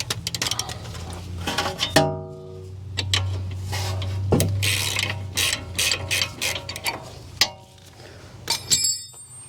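A ratchet wrench loosening the rear brake caliper bolts on a 2016 Audi Q5, with bursts of rapid pawl clicking separated by short pauses and metallic clinks of tools, close-up and fairly loud, without talk.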